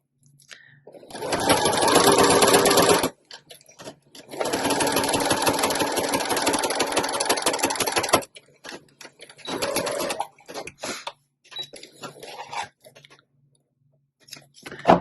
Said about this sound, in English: I'm going to start up there, do a little bit of a back stitch.